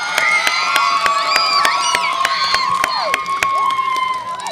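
Elementary school children at an awards assembly cheer and clap for award recipients, a loud, close crowd of high shouts and whoops layered over steady applause.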